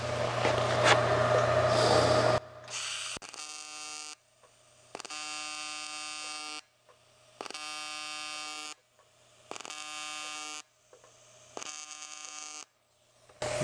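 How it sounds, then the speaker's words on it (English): A TIG welder making tack welds without pulse gives five separate steady electric buzzes, each lasting about one to two seconds with short silences between, close and fairly loud, following a noisier opening. "So I'm going to try to do some TIG tacks here with no pulse."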